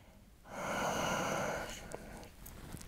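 A single breath taken while holding a low plank in an abdominal workout: one breathy, hissing exhale of about a second, close and fairly soft, trailing into faint rustling.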